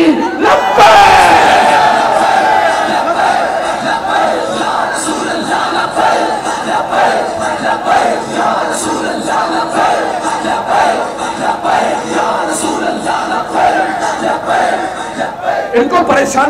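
Large crowd at a Labbaik (TLP) political rally in Karachi chanting the Labbaik slogan in unison, a loud, sustained roar of many voices filling the space, with rhythmic swells throughout.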